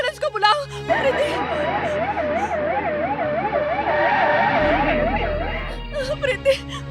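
Ambulance siren in a Hindi dubbed movie scene: a wailing, rapidly oscillating tone that holds steady through the middle under urgent, distressed shouting voices, then fades at the end.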